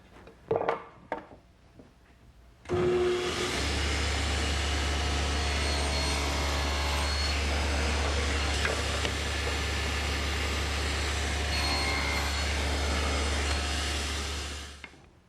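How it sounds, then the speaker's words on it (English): A table saw cuts a 3/16-inch-deep shoulder cut across the face of a board for a tenon. A few knocks lead into a loud, steady whir with a low hum that holds for about twelve seconds before spinning down. "The first cut is the shoulder cut on the face of each side of the board, and it's 3/16 of an inch deep"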